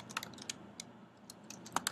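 Fingers tap a computer keyboard in short, irregular bursts of crisp, quiet clicks, close by and alone, with a brief pause midway before a quicker flurry at the end.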